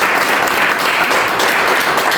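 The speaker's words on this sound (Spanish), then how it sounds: "vamos a darle un aplauso a Jesús" A church congregation gives dense, steady applause during a pastor's service, loud and close, with no voices over it.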